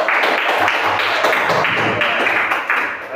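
A classroom group claps for group 3 during a school lesson, a dense, steady patter of many hands filling the room for about three seconds with a slight taper at the end.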